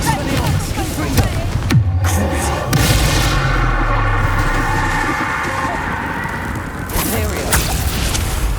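Spell-blast explosion in the Hogwarts Legacy video game, a dense battle soundscape of booms and bangs with a sharp crack near the two-second mark, layered over constant effects and rumble.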